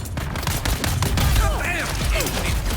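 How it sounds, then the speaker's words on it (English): Grenade blast in the desert survival game Dune: Awakening, a loud burst amid rapid crackling gunfire, with whistling tones sweeping through the noise. "Throwing grenade."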